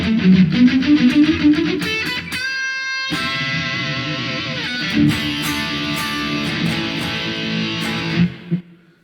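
Distorted electric guitar runs through a Marshall JMP1 solid-state preamp model on a Quad Cortex, with loud riffing and sustained chords, a brief silent gap near the start, then ringing chords that cut off abruptly at the end.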